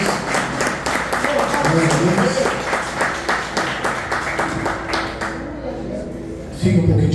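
Congregation clapping hands in rhythm during a church worship service, a steady run of claps beneath someone speaking over the crowd throughout.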